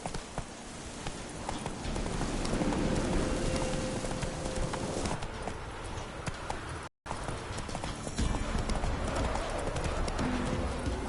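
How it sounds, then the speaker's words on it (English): Horse hooves clip-clop steadily at a gallop across the whole stretch in the Witcher 3 video game, loud and close, with a brief dropout near the middle and no talk over it. "Run, Roach."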